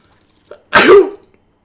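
A single loud, close sneeze bursts out after a brief faint breath, with no other voices around it.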